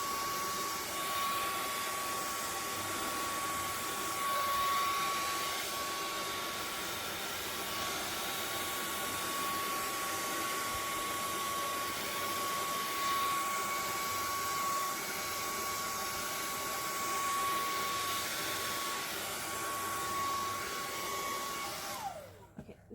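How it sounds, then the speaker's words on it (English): A hair dryer blows steadily and loudly across an acrylic pour painting on a tray, holding a constant whine for about twenty seconds before it cuts off at the end. "Let me switch to the other hair dryer, which is a bit more powerful."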